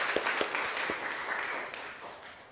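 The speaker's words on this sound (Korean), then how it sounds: "감사와 격려의 박수 한번 했으면 좋겠습니다" Soft, diffuse applause from a church congregation during a Sunday service fills a hall, with a few distinct louder claps near the start before the sound gradually fades.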